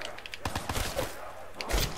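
Gunfire in the Black Ops 3 Zombies map Shi No Numa, a swamp level, heard as a burst of rapid, punchy shots followed by scattered blasts, loud and close.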